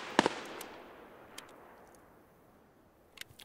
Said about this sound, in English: Popping a bunch of shots right now.